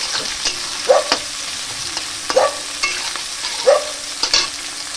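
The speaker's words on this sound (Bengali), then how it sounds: "আর এই পেঁয়াজগুলো এবার ভেজে নেব তেলে" Sliced onions fry in heated oil in a wok, a steady close sizzle punctuated every second or so by spatula scrapes and light metallic taps as they are stirred.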